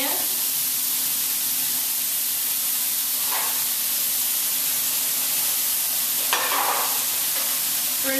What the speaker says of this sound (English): So in go the tomatoes into the same pan.